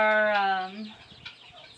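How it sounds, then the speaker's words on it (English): An Easter Egger rooster gives a loud, close, drawn-out vocal call that breaks off into a few softer, scattered clucks from Easter Egger hens in their coop. "Our Easter egger rooster and our Easter egger hens live in here"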